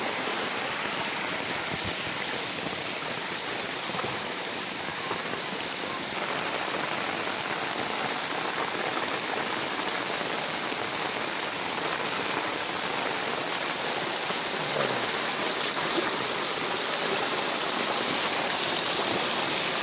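Steady rain pours outside, a dense continuous hiss of water drumming on surfaces that holds even and fairly loud throughout, with no voices.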